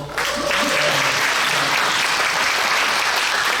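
Loud, sustained applause from a large audience at a Korean church induction worship service for a general assembly moderator. Dense, even clapping swells in almost immediately and holds steady throughout.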